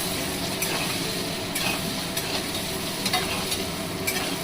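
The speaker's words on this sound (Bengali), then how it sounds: "আলুটা একটু ভাজা ভাজা হচ্ছে।" Potatoes fry in a pan over raised gas heat, a steady close sizzle with intermittent scraping stirs and light clinks, no voices.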